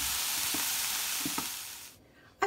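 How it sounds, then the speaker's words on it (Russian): Carrots and onions sizzle in a frying pan, a steady bright hiss with a few soft stirring clicks, then the sizzle suddenly drops away near the end. "Сейчас я морковь и лук пережарю на сковородке."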